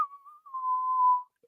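A person whistles one clear, sustained tone that wavers slightly and then holds for about a second before stopping, with nothing else around it.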